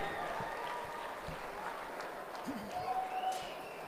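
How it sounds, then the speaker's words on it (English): Applause from the crowd at a livestock auction sale ring, a moderate, somewhat distant patter of clapping with voices and a brief call mixed in underneath. "Give him a big round of applause."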